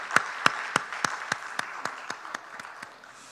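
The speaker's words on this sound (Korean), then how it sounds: "박수하겠습니다" A church congregation at a Sunday service gives a thank-you applause, heard as about a dozen distinct, rhythmic claps roughly a third of a second apart, fairly faint in a reverberant hall and gradually fading.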